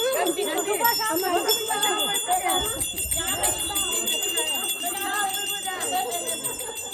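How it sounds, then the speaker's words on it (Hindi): A temple bell rings with sustained bright metallic tones under a crowd of voices talking and chanting at a ward election campaign gathering. "मंदिर की घंटी बज रही है।"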